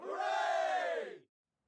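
A loud, close crowd cheer bursts out at once and holds for just over a second before cutting off sharply, with no talking over it.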